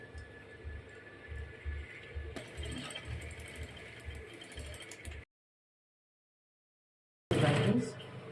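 A sewing machine stitches a bustier seam with a close, rhythmic mechanical chatter. It cuts out into silence and then returns in a louder burst, while a voice talks over the running machine.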